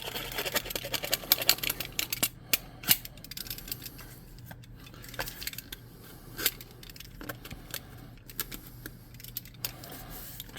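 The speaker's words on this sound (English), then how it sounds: "I'm just going to cut off some of that loose cardboard so that it's not sticking up" Loose cardboard trimmed off a handmade cave tile for a tabletop roleplaying game, giving a run of small, close snips and scrapes over a low background hum.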